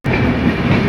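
A train rolls past close beside a road, its steady loud rumble and rail clatter filling the whole second with no break and no voices.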